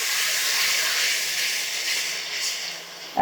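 Ginger and green chilli paste sizzles in a hot pan as it is stirred for a paneer dish, a steady close hiss running the whole time with no talking.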